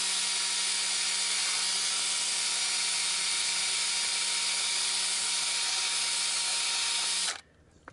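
Light abrasive disc on a power tool working the gasket surface of a Mopar 2.0L engine block, a loud steady high whine with a constant tone, stopping abruptly near the end.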